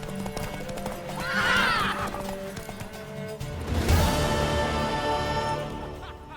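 A horse in Witcher 3: Wild Hunt gives a loud whinny with rhythmic hoofbeats around it, then clattering hooves over game music and ambience, with little talk.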